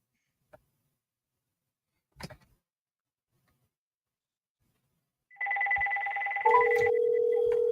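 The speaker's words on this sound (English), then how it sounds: "Now I can hear his phone ringing." A phone rings over an internet call. It starts after a few faint clicks, then comes as a sustained electronic ringing tone, shifting partway to a lower, steadier tone.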